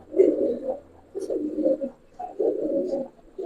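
Giribaz pigeons coo in soft, low repeated phrases, three rounded bursts close by with short pauses between, no talk over them.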